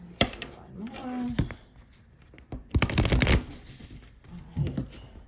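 Tarot cards are shuffled in quick riffling bursts, with soft slaps and a pause between rounds, under intermittent speech.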